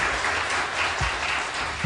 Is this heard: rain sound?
no